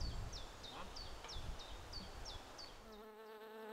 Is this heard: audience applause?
no